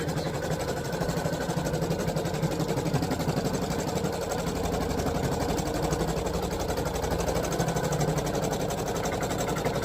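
A computerized embroidery machine stitches around a fabric finger mitt in the hoop, a steady, loud mechanical whir with a fast, even needle rhythm running throughout without pause.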